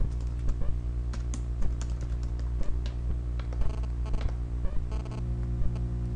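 Typing on a computer keyboard while writing C code. Close, quick key clicks tap out steadily and unevenly with no voices over them.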